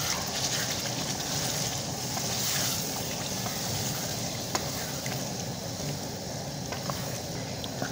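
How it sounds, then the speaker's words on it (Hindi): Mutton with yogurt sizzles and fries in a karahi over a medium flame, a dense, steady crackling hiss heard close and continuous with occasional stirring scrapes and no talk. "दही ऐड करने के बाद मीडियम फ्लेम पे 5 मिनट तक भुनाई करनी है।"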